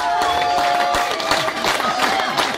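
A church congregation at a Saturday service in Belgium cheers and calls out together, a steady dense crowd roar with scattered shouts and hand claps throughout.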